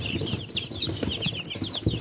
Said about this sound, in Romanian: Am luat 27 de pui de carne, 10 prepelete și 14 cabiri.